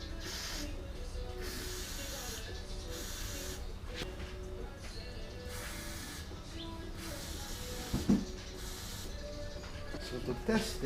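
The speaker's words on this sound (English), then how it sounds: "Let's put some WD-40." WD-40 being sprayed on a 1983 BMW R100RT motorcycle under restoration, several short hissing aerosol bursts in a workshop, with a few clinks and knocks of handling nearby.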